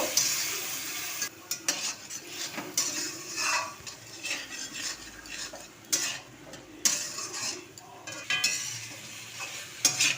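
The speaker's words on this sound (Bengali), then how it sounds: "আমি এর মধ্যে সব মশলাগুলো দিয়ে দিলাম দিয়ে ভালোভাবে কষিয়ে নেব" Spices for a rohu fish curry are stirred and sautéed in a pan: a spatula scrapes and clinks against the metal over a soft sizzle, in uneven repeated strokes, close by.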